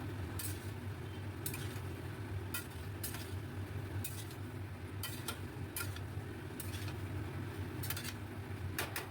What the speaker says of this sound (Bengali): এবার খুব ভালো করে কষিয়ে মিশিয়ে নেব মশলার সঙ্গে আলু আর এই কাবুলি চানা